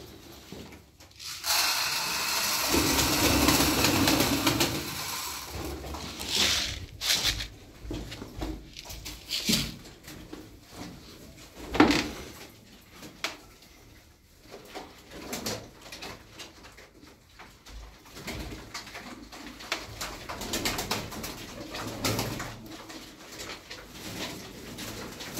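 Pigeons coo in low, throaty bursts that come and go near the listener, with scattered knocks and rustles in between and no talking.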